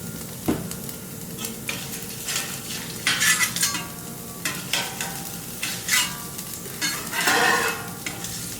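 Vegetable oil frying on a Camp Chef FTG600 flat top grill, with scraping, stirring utensil clatter and steady close sizzle, bursts of louder frying, no talking.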